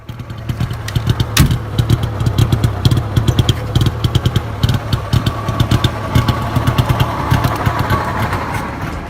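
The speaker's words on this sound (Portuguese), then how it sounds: "O som do motor era característico de um 2 tempos" An old Brazilian station wagon's two-stroke engine, burning a gasoline-and-oil mix, runs steadily with a loud, rattling, uneven pulse and sharp popping bursts throughout.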